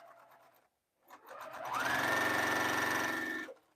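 A Singer sewing machine starts up after a brief pause, a faint stitch clatter first, then a steady, fast whirring hum with rapid mechanical ticking that runs for about two seconds before stopping.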